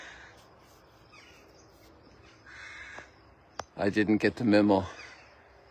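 A crow caws several times in a quick, harsh series, close and loud near the end, after someone speaks briefly over faint outdoor background.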